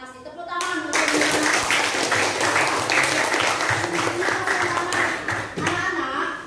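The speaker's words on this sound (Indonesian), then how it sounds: "Tepuk tangan untuk" Classroom applause for schoolchildren at an Indonesian high school lesson, a steady dense burst of many hands clapping that swells after a brief pause and carries on for several seconds, with a short dip near the end.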